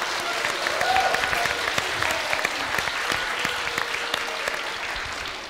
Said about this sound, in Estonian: Teeme talle ühe aplausi.